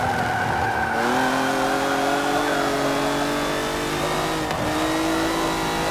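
Race car engine in Forza Motorsport 7 holding a steady, loud drone with rising and falling harmonic pitch as it revs through gears, a brief dip near the end, no voices.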